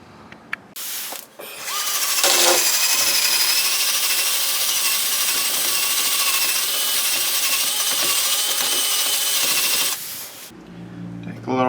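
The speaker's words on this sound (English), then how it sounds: "What we'll do is take a wire brush and clean up around there" A wire brush scrubs around the differential cover of a Ford F150 during a fluid change, making about eight seconds of continuous, harsh, close-up scraping with a few clicks before and after.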